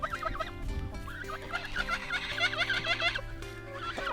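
Backyard chickens clucking and warbling close by, a busy overlapping run of rising calls and throaty clucks with no voices.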